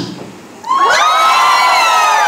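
An audience row shouts together on request at a gathering, a sudden loud, sustained collective yell that rises after a brief quieter lead-in and holds strong to the end.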